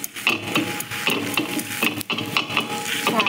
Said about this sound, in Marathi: आपण ठेचा मस्त असा तव्यावरच छान मस्त कुटून घेणार आहोत